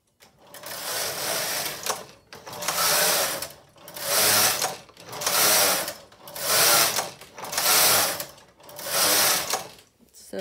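Silver Reed SK155 chunky knitting machine carriage sliding back and forth across the bed while knitting a Fair Isle pattern, six rhythmic rasping sweeps separated by short pauses, close and loud with no talk.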